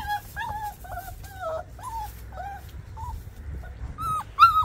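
Stuck in a waterway and unable to climb out, a puppy lets out repeated short whimpers and yips, close and clear, ending in a couple of sharper high cries.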